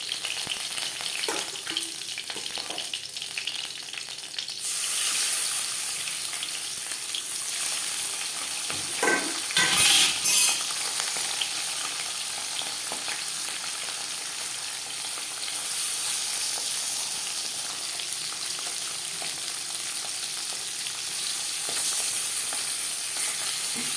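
Pabda fish pieces frying in oil, a continuous close sizzle and crackle with occasional utensil knocks and a brief louder burst midway, no talking.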